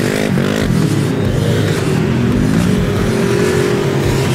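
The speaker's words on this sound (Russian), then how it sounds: "После чего им нужно будет резко завести двигатели." Several RZR side-by-side engines, including a one-litre stock model, fire up and rev hard at a race start, loud overlapping motor drones with rising and falling pitch, close and continuous.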